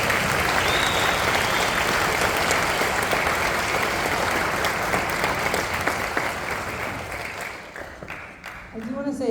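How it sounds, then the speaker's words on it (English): An audience at a youth orchestra spring concert applauds its young players, a loud, dense roll of clapping that holds steady and then thins out toward the end, where a voice starts to speak. "one more round of applause for our phenomenal kids"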